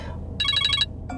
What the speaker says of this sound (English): So you were just playing a stupid ringtone to make me think somebody was calling you?